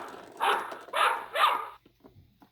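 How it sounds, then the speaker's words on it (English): Three recorded dog barks from an original Farmer Says See 'n Say talking toy, loud and evenly spaced, followed by a few softer clicks and noises. "This is a dog."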